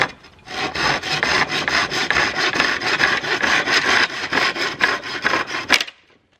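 A handsaw cuts a wooden 2x4 in half with quick, steady back-and-forth strokes, loud and close, ending in a sharp crack as the board parts, then silence.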